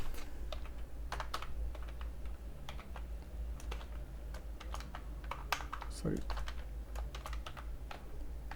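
Rapid keystrokes on a computer keyboard while VBA macro code is entered, a steady patter of close, crisp clicks with a short pause, over faint low background hum and occasional speech.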